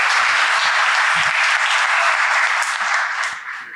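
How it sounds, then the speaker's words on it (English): Conference crowd at a Ruby programming event claps in a dense, loud burst of applause that holds steady before tapering off at the close. "A big round of applause, and let's hear him."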